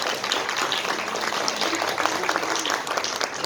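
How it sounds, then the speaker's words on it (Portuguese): An audience at a university tribute event for a professor claps in sustained, dense applause that holds steady at moderate volume and fills the room. "Palmas para ele."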